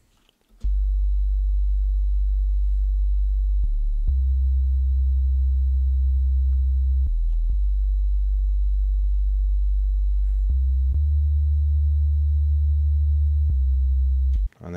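A synthesizer plays low sine-wave bass notes from a dubstep patch, pure and sustained, shifting pitch in a few steps with soft clicks at each change, alone and steady for about fourteen seconds.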